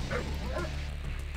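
Attack dogs in the real-time strategy game Command & Conquer: Red Alert let out a couple of yipping barks over a dense, rumbling battle mix, short and somewhat buried.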